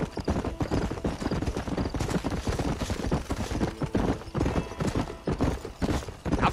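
Horse hooves galloping in the video game Red Dead Redemption, rapid rhythmic clip-clop beats close and loud, with faint tack rattle between strikes and no talking.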